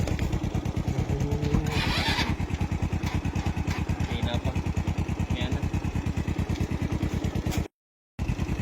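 A motorcycle engine, jump-started from a motorcycle battery in a remote rural province, runs with a steady fast putter and clatter from start to finish. A brief gap comes near the end.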